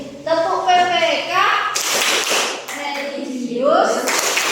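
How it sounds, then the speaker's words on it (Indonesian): A class of Indonesian schoolchildren performs the Tepuk PPK rhythmic clap, with sharp patterned bursts of hand claps mixed with children's chanting voices in a classroom. "biar kita tambah semangat kita tepuk dulu. Tepuk PPK ya."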